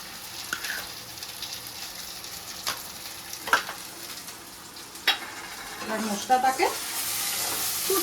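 Chhana koftas fry gently in hot oil with a soft continuous sizzle, occasional clinks and scrapes of a utensil, and a brief bubbling swell near the end.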